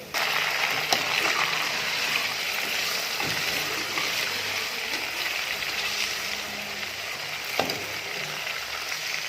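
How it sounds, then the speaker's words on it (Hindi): Meat goes into a pan of browning onions, and a steady, loud sizzle and crackle of frying fills the whole stretch, with a few small clatters. "ये गोश्त इसके अंदर डालूंगी।"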